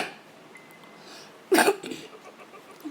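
A single short, sharp cough bursts out close by, followed by a few fainter rustling sounds over a low, steady background.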